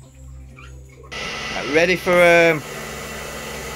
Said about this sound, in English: it's my homemade extractor for spraying